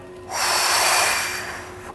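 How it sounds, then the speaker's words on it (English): A long, deep exhale through the nose during a morning yoga stretch, a single breath that swells and slowly fades over about two seconds, close and clear with no talk. "breathing out."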